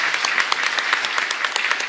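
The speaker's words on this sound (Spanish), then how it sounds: "Un fuerte aplauso para el Señor" A congregation at a Catholic Mass in San Miguel Arcángel parish, San Lorenzo, claps together in steady, dense applause, fairly close and continuous throughout, with no voices over it.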